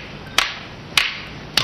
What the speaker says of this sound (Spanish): Le aplaudiré a dos manos.